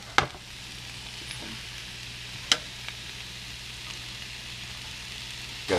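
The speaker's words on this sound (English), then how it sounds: "because they're in a smaller pan, the onions are sweating" Onions sizzle in a small pan with a faint, steady hiss and a couple of sharp ticks and pops.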